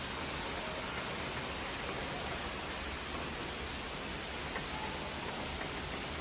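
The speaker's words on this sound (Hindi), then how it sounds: "बारिश काफ़ी तेज़ हो रही है।" Heavy evening rain pours down in Bangalore. It makes a dense, unbroken hiss of falling water, steady and fairly near, with no talk over it.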